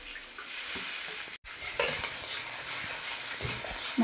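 Spice masala sautéed in a pan for a rohu fish and cauliflower cumin curry, with a soft, steady sizzle under repeated spoon stirs and scrapes, a brief cut to silence, then more stirring.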